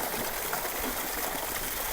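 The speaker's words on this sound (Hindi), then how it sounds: "ये एक बार में 40 लीटर लगभग पानी एक साथ आता है" Water pours in a steady broadband rush from a leather bag of roughly 40 litres hauled up from an old desert well near the India–Pakistan border in Rajasthan, a continuous splashing gush heard alone and close.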